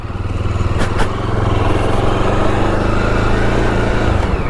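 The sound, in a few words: Jawa Bobber 42 motorcycle engine running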